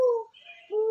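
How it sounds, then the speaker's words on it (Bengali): An Asian koel, a cuckoo, calls from woodland in the heat of midday: two clear whistled notes, close and loud, separated by a brief quiet gap. "এই ভরা দুপুরবেলায় কোকিল ডাকছে।"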